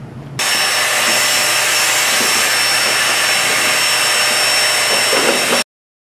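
A vacuum cleaner, with a hose taped on for cleaning dryer lint, switches on and runs with a steady, loud broadband whir and a high whine, then cuts off abruptly.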